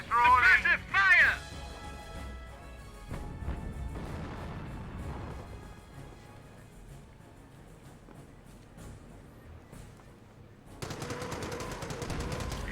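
Suppressive machine gun fire in the Company of Heroes strategy game, a rattling burst that fades under ambient battle noise and unit voices, then picks up again loudly near the end.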